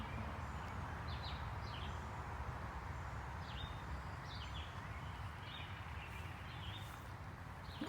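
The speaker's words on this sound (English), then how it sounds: "I hear woodpeckers over there." Woodpeckers call and tap in scattered short bursts, fairly distant, across a steady low rumble of park ambience beside a lake on a spring morning; faint footsteps and rustling run underneath.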